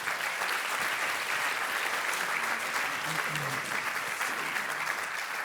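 Theatre audience applauds steadily at the close of a roundtable panel on supporting entrepreneurship, dense even clapping filling the hall throughout.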